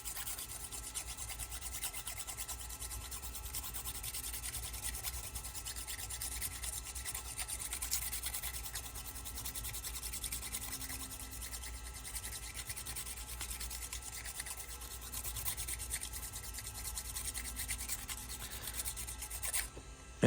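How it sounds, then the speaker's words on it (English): An emery board rubs back and forth over a small hearing aid shell, a soft, continuous rasping scrape held at a steady level, close and quiet. "now we're going to take a little emery board and just kind of smooth it off a little bit"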